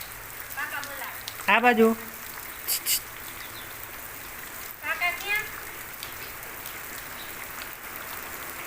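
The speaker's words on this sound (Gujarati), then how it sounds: "જો પાછો વરસાદ વધી ગયો" Steady rain falls in an Indian village, a soft, continuous hiss heard throughout, while people talk briefly over it.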